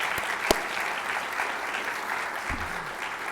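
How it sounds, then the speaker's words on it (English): An audience at a national faculty meeting claps in a sustained round of applause, a dense patter of many hands with one sharp clap standing out early, heard close and without speech. "Could we have a round of applause for all of them?"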